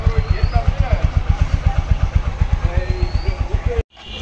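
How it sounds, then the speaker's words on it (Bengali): A black second-hand Apache RTR 160 4V motorcycle idles nearby with a steady, even low thumping pulse, then cuts out abruptly near the end, leaving a quieter background. "বাইকটি কিন্তু এটি জেনুইন চলা, ঠিক আছে, স্মুথ সাউন্ড আপনারা দেখে দেখতে পারেন।"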